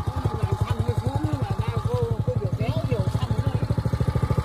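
A Trâu Vàng multi-purpose petrol tiller engine, 2023 model, runs after a pull start with a steady, fast-pulsing mid-pitched chug, close and continuous, while people talk over it.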